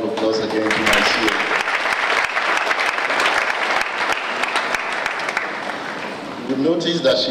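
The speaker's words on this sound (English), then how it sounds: "Can we please give a round of applause again to my CEO?" An audience at an annual lecture bursts into sustained applause, dense clapping that stays loud and steady for several seconds before fading as voices come back in.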